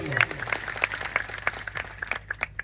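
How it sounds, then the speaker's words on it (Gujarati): A rally crowd applauding police officers, with a dense patter of scattered clapping at moderate distance and a steady low hum beneath. "એમના માટે પણ જોરદાર તાળીઓ પાડી લો"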